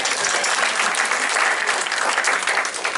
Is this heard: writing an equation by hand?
no